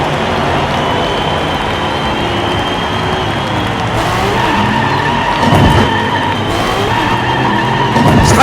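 Diecast miniature race cars run on a toy track during a racing knockout heat, one skidding out. A continuous loud rolling, whirring rumble carries throughout, with a sharper scraping swell near the middle and end.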